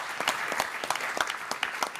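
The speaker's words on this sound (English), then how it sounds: "Let's give him a round of applause for everything that he did to put this together." Audience applause in a lecture hall for an event organizer seated in the front row, a steady burst of many hands clapping, fairly close and continuous, with no talk over it.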